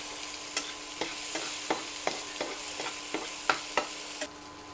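Fried ingredients hiss quietly in a pan for a mutton kosha or chicken do pyaza, with a steady, faint sizzle punctuated by regular spatula scrapes about every third of a second, close and with no voices.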